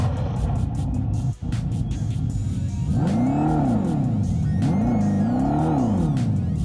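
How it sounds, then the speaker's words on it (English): A deep V8 exhaust on a muscle car with a chambered exhaust rumbles at idle, then revs hard twice in rising and falling surges, loud and close, at an auto show. "When you hit that throttle in the V8 and it roars"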